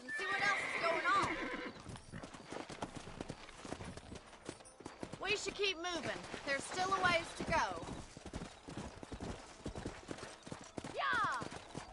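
Horses in the Red Dead video game neigh and whinny, with a rising-then-falling whinny near the end, while hooves clip-clop steadily underneath and voices talk through most of the stretch.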